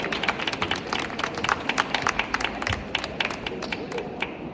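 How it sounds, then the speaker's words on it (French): An audience claps steadily and densely at close range, a continuous patter of many hands running through the whole stretch with no one speaking. "Merci Delphine et applaudissements pour elle."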